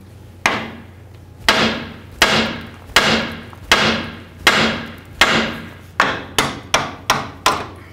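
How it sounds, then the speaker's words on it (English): A hammer strikes the steering knuckle of a 1994-2004 Chevy S-10 about a dozen times, sharp ringing blows spaced unevenly at first, then coming faster and closer together toward the end. "We're going to do that by hitting right on the knuckle with our hammer."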